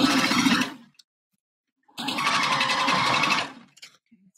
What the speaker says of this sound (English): I'm sewing down the center seam at 1/4 of an inch.